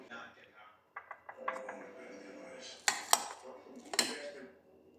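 Keto no-bake dessert being spooned out into bowls, with scattered clinks and scrapes of utensils against dishes, a few sharper knocks near the end, alongside soft speech in the background.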